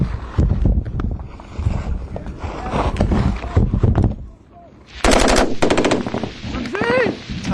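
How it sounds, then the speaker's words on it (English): Bursts of machine gun fire crack out in rapid, loud volleys during a firefight with Taliban positions, alongside a brief lull and then renewed sustained shooting, with wind buffeting the microphone. "their positions are under intense fire"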